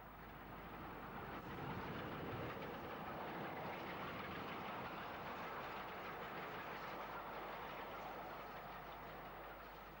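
A steam train rolls steadily along the rails in the UK with a continuous rumbling roar that stays loud and even throughout, with no voices.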